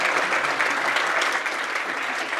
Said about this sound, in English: Can we give a round of applause to our museum panel,